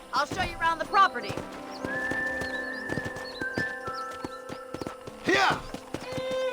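Horse in the video game Red Dead Redemption, with hooves clip-clopping in a steady rhythm and a whinny, heard alongside speech and game sounds.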